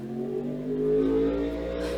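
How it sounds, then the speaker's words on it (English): A motorcycle passes outdoors, its engine rising in a steady mid-pitched drone that swells and revs slightly before tapering off, with no talk over it. "excuse the motorcycle passing by here"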